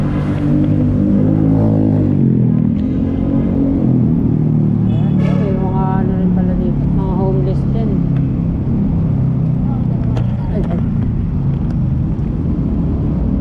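Heavy traffic along EDSA rumbles as a dense, loud, continuous drone of engines, with passing vehicles and occasional horn-like tones rising above it, while a person talks over the noise.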